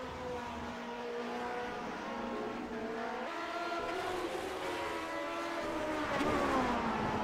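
Vintage Grand Prix race cars in the Grand Prix Legends racing video game at Brands Hatch roar past with a steady, layered engine drone whose pitch shifts as they approach and rev, filling the clip without talk.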